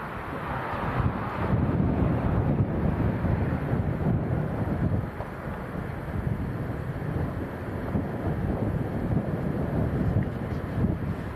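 Strong gusting wind of about 40 mph buffets the microphone at Leeds Bradford Airport, a steady broadband roar and rumble that holds loud and continuous throughout with no voices.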